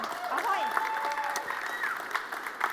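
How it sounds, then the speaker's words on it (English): Sustained applause from a conference audience at the Arctic15 event, a steady wash of claps that fills the whole stretch, with a voice and faint tonal sounds running underneath. "let's give it one more big applause"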